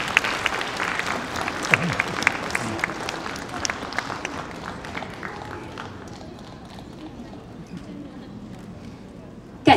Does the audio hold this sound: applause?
yes